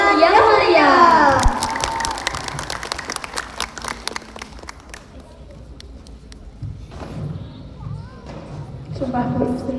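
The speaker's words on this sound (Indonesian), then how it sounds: "Beri tepuk tangan yang meriah" An audience breaks into a burst of clapping before a children's mini theater fairy tale show of Ande-Ande Lumut, the applause rising after a brief voice and then thinning into scattered claps and murmurs.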